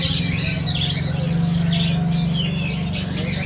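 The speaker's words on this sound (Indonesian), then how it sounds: "Ini dia kutilang, teman-teman." A sooty-headed bulbul (kutilang) chirps and sings amid the dense, noisy bustle of a bird market, giving repeated short calls over a constant low rumble.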